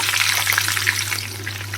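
Steady crackling sizzle of diced potatoes frying in hot oil until browned, continuous and close, with a low constant hum underneath and no talking.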